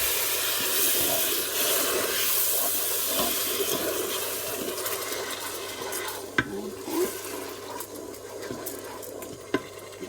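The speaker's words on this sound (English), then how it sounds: "I'm just going to add a little drop of milk to start." Milk is poured into a Ninja cooker at the start of making rice pudding, a continuous splashing, hissing flow that runs for several seconds, then tapers off with a few light knocks and no talk.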